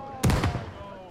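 A single booming cannon shot goes off in the pirate-era naval game Nassau 1715 during a community event, a sharp close blast with a short rumbling decay.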